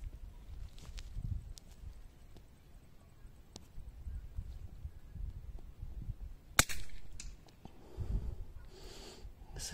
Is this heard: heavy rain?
no